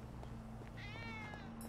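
A cat in Grand Theft Auto V gives a single drawn-out meow, quiet and fairly close, over a soft steady hum with no talking.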